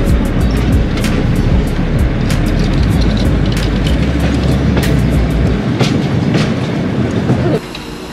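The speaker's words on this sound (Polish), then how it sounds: "Słychać, że lokomotywa daje czadu, wspinamy się pod górę." A historic train locomotive works hard climbing uphill on the disused Police–Trzebież line near the Police industrial plant. A loud, close engine rumble runs under rhythmic wheel clatter on the rails, and the sound eases slightly near the end.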